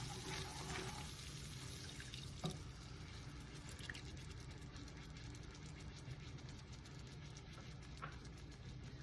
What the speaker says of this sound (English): Let's add half a cup of water.